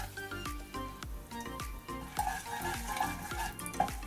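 Soaked, peeled and cut almonds fry in hot ghee in a pan, with a steady sizzle under repeated scraping stir strokes and light clinks of a utensil, nearby and fairly quiet with no talking.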